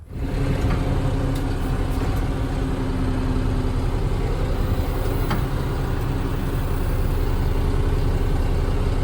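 A Duramax diesel drag truck engine runs as the truck is driven, giving a steady, dense rumble that holds at an even level throughout with no break.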